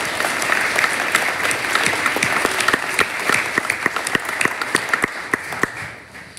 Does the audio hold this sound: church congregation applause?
yes